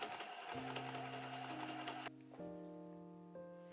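A sewing machine runs in a rapid, even stitching rattle while it sews a thin fabric pouch. The stitching stops about halfway through, and soft background music continues underneath with no one talking.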